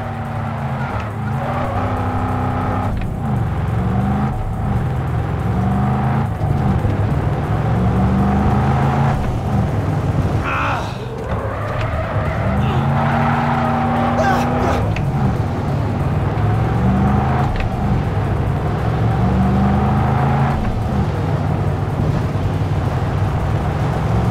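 Car driving at speed with engine revving and tires squealing through skids in the video game Cyberpunk 2077, loud and continuous, with a chase in a futuristic city setting.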